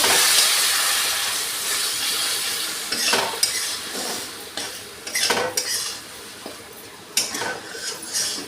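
Fried potatoes stirred in a pan for a chili-free fish curry, with loud metal spoon scrapes and clanks against the pan in irregular bursts over a soft background hiss.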